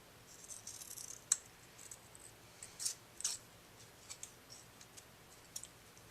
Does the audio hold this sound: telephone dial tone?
no